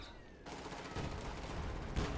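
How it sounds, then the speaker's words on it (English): Artillery strike explosions in the Company of Heroes 2 strategy game, a few faint, distant booms and crackling bursts in a low, rumbling background. "what is this explosion? I'm hearing explosions somewhere."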